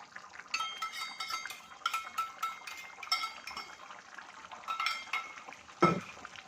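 A spoon stirring a yogurt mixture for a Kathiyawadi onion-potato curry, giving a run of light metallic clinks and scrapes in an irregular rhythm, close and fairly quiet, with one firmer knock near the end.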